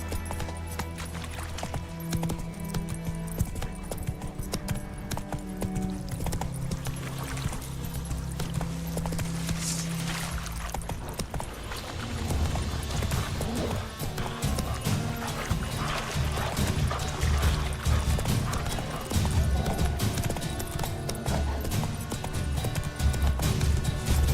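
Horse hooves in the video game The Witcher 3, a rhythmic clip-clop of galloping that grows louder and denser in the second half, over game ambience and occasional neighs.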